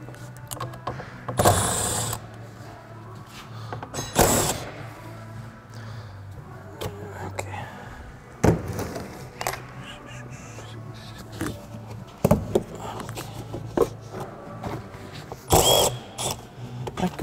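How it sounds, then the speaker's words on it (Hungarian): Hand tools click and ratchet at intervals while a plastic engine cover is removed from a BMW 120d with the M47 204D4 diesel, with sharp bursts of clattering and loud crow caws from outside between quieter stretches. "most ezt itt el fogom távolítani, és akkor sokkal több mindent lehet majd megnézni, meg ezt a műanyag motorburkolatot is leszedem"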